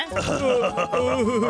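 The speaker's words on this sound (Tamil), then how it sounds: "அது ஏப்பம்பா" A cartoon burp, long, loud and close, with a wobbling, gurgling pitch that rolls on for over a second.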